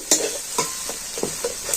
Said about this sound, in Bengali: আবার এটাতে আমি খুব নাড়াচাড়া করে নিচ্ছি